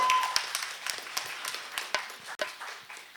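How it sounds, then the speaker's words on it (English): Scattered audience clapping at a freedom celebration event, a loose run of separate sharp claps rather than a full roar, fairly close and lasting a few seconds. "Please give a big round of applause."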